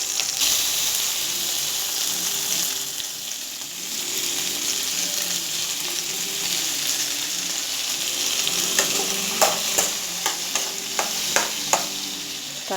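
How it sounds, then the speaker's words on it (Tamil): Onion and tomato sauté in a pan for a Tamil kuzhambu with a steady close sizzle throughout, and a run of sharp utensil taps and scrapes toward the end. "நல்லா வெங்காயம் வதங்கினதுக்கப்புறம் தக்காளி போட்டு வதக்கலாம்"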